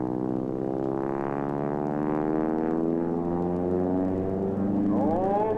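An aerobatic propeller airplane flies a hammerhead at an air show, its engine drone sliding down in pitch as it climbs and slows, then swinging back up as it turns, loud and alone.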